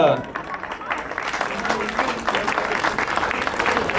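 Audience applause at a prize-giving ceremony for a 10 km road race, a dense, sustained clapping that swells and continues throughout, with some crowd voices mixed underneath.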